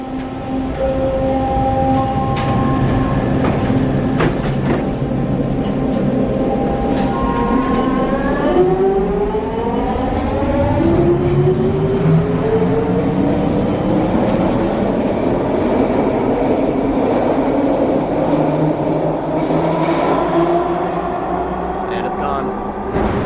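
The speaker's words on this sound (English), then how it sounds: "Good ride on the SkyTrain." A Vancouver SkyTrain metro train hums and whines as it rides along, the motor pitch sliding up and down steadily throughout, with rumbling track noise beneath.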